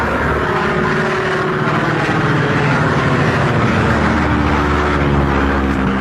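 A light aircraft's propeller engine drones loud and steady through a storm, with a dense, unbroken roar and no pause from start to finish.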